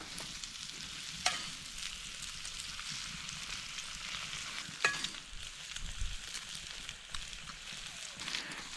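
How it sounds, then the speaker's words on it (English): Eggs, onions and mushrooms fry in a pan over a campfire, giving a soft steady sizzle with a couple of sharp utensil taps and some light scraping, fairly quiet and close. "Now we're just gonna let the eggs cook."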